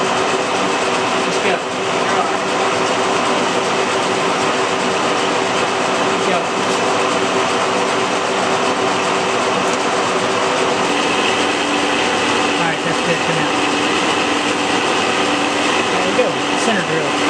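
Lathe running as a center drill bores into a steel press plate for an arbor press, a steady broadband machining whir with mechanical rumble that continues throughout, loud and close in a workshop.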